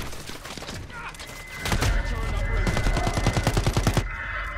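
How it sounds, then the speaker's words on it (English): A sentry turret in Call of Duty: Modern Warfare fires rapid automatic bursts, building into a fast, loud rattling string of shots that stops abruptly near the end. "Sentry turret."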